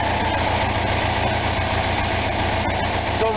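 An Onan RV generator's engine idles roughly and steadily, a close, continuous low rumble with a slight uneven throb throughout, with no talking.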